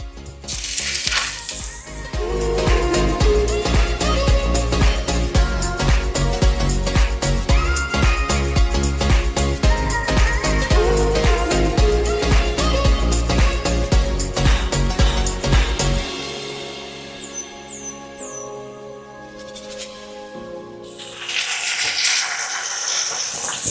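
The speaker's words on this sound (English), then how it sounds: "now let's put our patties into the pan" Floured Polish kotlety patties sizzle and crackle steadily in a hot pan, a dense continuous frying hiss that briefly quiets before picking up again near the end.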